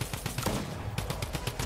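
Rapid bursts of drum gun fire in the video game Fortnite, a fast run of sharp, closely spaced shots with a brief lull in the middle, loud and close with no talk over it.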